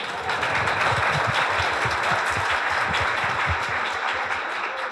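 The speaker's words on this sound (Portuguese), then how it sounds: "Pode aplaudir, por favor." Applause from the audience at a closing conversation circle of a youth event, a dense steady wash of many hands clapping that holds loud throughout with no voices on top.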